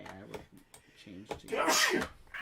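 A single sharp sneeze bursts out near the end of a stretch of casual male chatter, loud and close, with talking heard before it.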